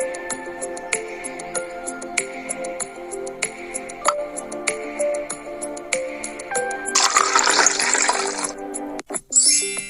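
Air from a balloon forces water out of a plastic bottle through a straw into a glass below, a brief gushing splash and hiss near the end that rises over a soft musical backing, with no speech.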